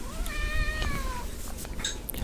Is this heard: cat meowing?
yes